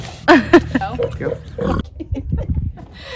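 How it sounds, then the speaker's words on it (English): Pigs on a pig farm grunting and squealing in short close bursts, loud at first, mixed with people talking nearby. "we're going to introduce you to 2 special pigs"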